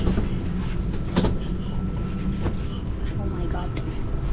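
Rumble of a train running on rails in China, a steady low rolling roar with faint rhythmic wheel clatter throughout, heard from inside a carriage as voices murmur in the background.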